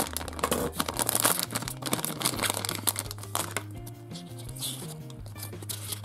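A plastic packet of Disney Doorbles first-series collectible figures is torn and crinkled open up close, with rapid crackling and rustling bursts over faint background music.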